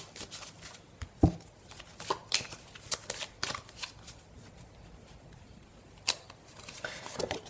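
Tarot cards being shuffled for a reading, a quiet run of soft riffling flicks and slaps in an uneven rhythm, with a sharper snap near the start and another later.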